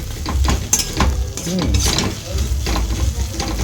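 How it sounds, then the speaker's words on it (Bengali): Taro (kochu) leaves stir-fried in a pan, with a steady sizzle, scraping and stirring clatter of a utensil against metal, and faint background voices. "সে পাতাটাকে এটাকে এবার কষানো হচ্ছে"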